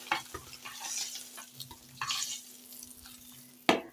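Egg with salt and turmeric fries in oil in a pan, a soft steady sizzle broken by scraping stirs and a sharper utensil knock near the end, fairly quiet and close.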